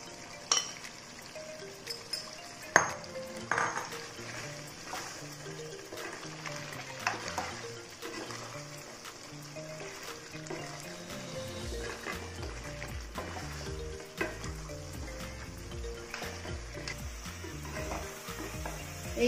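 Ground onion paste frying with mutton in a pan for korma, giving a steady low sizzle with occasional stirring scrapes and clinks throughout, close but fairly quiet, no talking.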